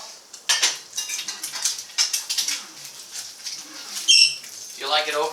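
A metal spatula scraping and clattering against a pan while food is plated, several quick irregular scrapes and clinks close by.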